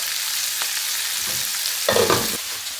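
Steady frying sizzle of onion dressing in a pan, a continuous crackling hiss with a brief louder burst of stirring near the end.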